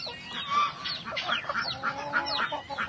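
Farm fowl, chickens among them, cluck and squawk in a busy, overlapping chorus at feeding time, with a repeated honking call cutting through at moderate distance and no voices.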